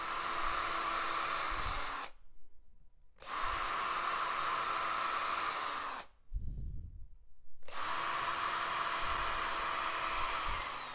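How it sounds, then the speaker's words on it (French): A power drill bores screw holes for hinges while building a paint filter, whirring loudly and steadily in three long bursts separated by short pauses, with a brief low rumble in the second gap. "Percez vos trous de vis."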